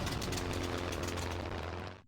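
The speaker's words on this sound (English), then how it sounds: "His plane is making weird sounds." A propeller plane engine drones steadily in Sid Meier's Ace Patrol: Pacific Skies, a loud close rumbling buzz that cuts off abruptly at the end.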